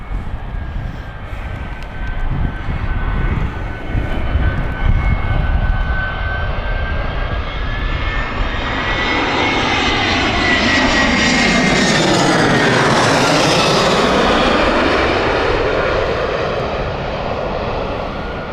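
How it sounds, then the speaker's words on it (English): An EasyJet Airbus airliner comes in to land at Gatwick Airport, its jet engines building from a distant whine to a loud roar as it passes overhead, then slowly fading away. "EasyJet Airbus A380 is behind us, just coming in."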